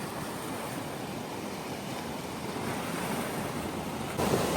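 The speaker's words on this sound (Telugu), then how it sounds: "ఈ నీళ్లు కాస్త లేసి ఇటు పడతాయి, అంత ఘోరంగా ఉంటుంది ఇక్కడ" Steady rushing sea surf with waves breaking and splashing close by over the shore, a continuous loud wash of water mixed with wind noise.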